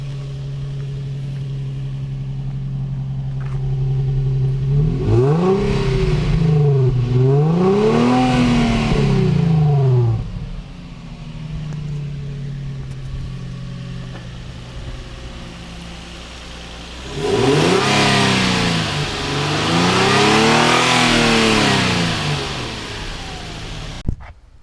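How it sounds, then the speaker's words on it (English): A Nissan 350Z fitted with a K&N intake revs hard in two bursts, the exhaust note sweeping up and down through each rev before settling back to a steady idle between them, loud and close with no talk. "hear the exhaust as well."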